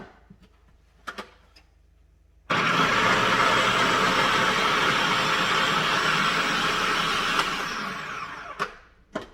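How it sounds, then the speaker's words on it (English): A food processor loaded with rinsed, drained chickpeas roars to life after a few small clatters, running as a steady, loud whir for about six seconds before winding down, with a couple of light knocks at the end. "now I'm going to add them to the food processor and process them"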